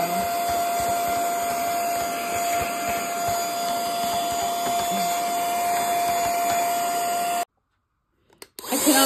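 A small handheld vacuum fitted with a brush attachment cleans the inside of a serger sewing machine, giving a steady, close whirring hum with a constant high whine and brushing scratches, then cutting off abruptly to silence before a few faint clicks.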